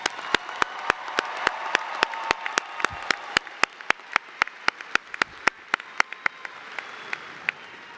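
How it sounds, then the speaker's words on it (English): Audience applauding graduates at a Tarrant County College graduation ceremony: sustained crowd applause with one close, evenly spaced clapper standing out, gradually thinning toward the end. "let's start this afternoon's celebration with a huge round of applause and congratulations to our"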